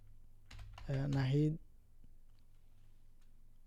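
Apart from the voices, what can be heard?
typing a name on a computer keyboard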